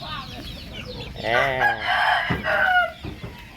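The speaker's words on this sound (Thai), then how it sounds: "ไก่รุ่นกระทงกำลังโต กำลังสวยเลย" A young rooster, three to four months old, gives one loud close crow with a rough, breaking voice, followed by a few short clucks.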